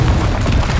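Confringo explosion spell in Hogwarts Legacy, a short, loud, booming blast with dense low rumble filling the moment.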